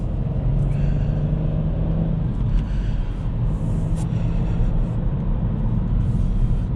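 A 2019 Hyundai Kona driving on a road and picking up speed, heard from inside as a steady, loud low engine and road rumble that continues throughout.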